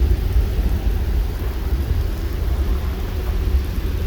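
Deep, continuous thunder rumble rolls through a severe thunderstorm over Montreal, a steady low roar that stays loud for the whole stretch with no voices.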